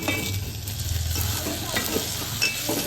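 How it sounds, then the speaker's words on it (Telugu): Onions and tomatoes sizzle in a pan while Maggi noodles are being made at home, a steady close frying hiss broken by scraping stirs and light utensil taps, with no one talking. "ఉల్లిపాయలు వేగిపోయి కొద్దిగా టమాటాలు వేసుకుందాం."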